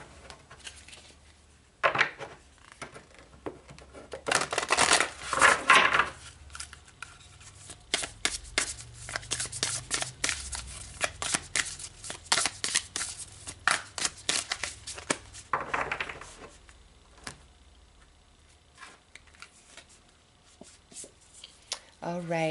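Tarot cards are shuffled by hand in repeated crisp riffling and flicking bursts across a quiet room, with brief pauses and a few spoken words in between.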